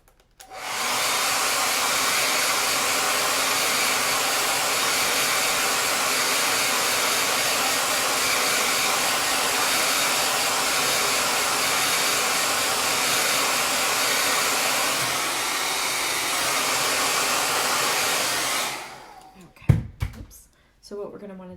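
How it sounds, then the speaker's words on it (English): A blow dryer runs for craft drying, a loud, steady, close airy whoosh that holds unbroken for nearly twenty seconds before switching off, followed by a few brief clunks of handling. "again, blow dryer is my best friend."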